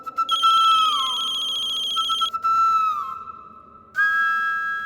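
A phone rings loudly with an electronic ringtone: sustained warbling tones with gliding pitch, repeated in three bursts that each start abruptly, close and alone.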